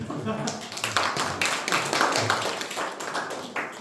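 Audience applause at an insurance sales training seminar: dense, continuous clapping fills the room for a few seconds, steady and fairly loud, with voices mixed into the crowd noise.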